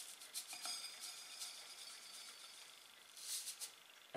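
A small spoon puts bee pollen onto a plate, giving faint, soft scraping and light taps at a low level, with a slightly stronger clink near the end.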